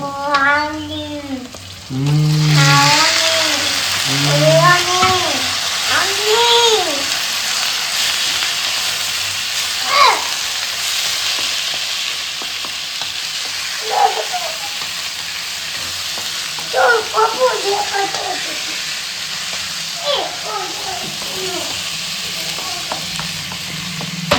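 Chicken added to fried onions in a pan hisses with a loud, steady sizzle that fills the scene, while scattered scraping and stirring taps and brief muffled voices sound beneath it.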